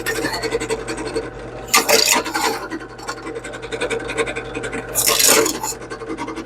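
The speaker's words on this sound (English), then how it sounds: "I'm going to turn this on and drill some holes" Drill boring holes through a heavy tin pineapple can, with two loud, harsh grinding bursts breaking through a steady motor whine and rasping metal scrape, close up and without speech.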